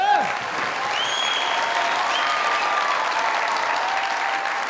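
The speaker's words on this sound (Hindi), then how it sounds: "जोरदार ताली।" A Pakistani comedy talk-show studio audience bursts into loud, sustained applause that holds steady throughout, dense clapping filling the room with a few faint whoops and voices riding on top.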